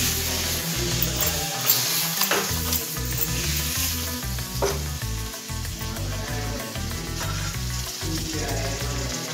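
Fish frying in a kadai with a loud, steady sizzle and bubbling oil, while a spoon stirs and scrapes against the pan in a busy, close, continuous rhythm, with no talking.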